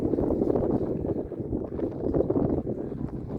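Torqeedo electric outboard motor pushing a sailboat on eastern Lake Ontario near the 1000 Islands, a steady low drone and water rush mixed with wind buffeting the microphone throughout.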